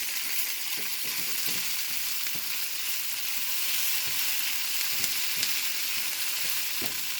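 Tofu and onions fry in a pan with a bright, continuous sizzle, and occasional scrapes and taps from stirring punctuate the crackle.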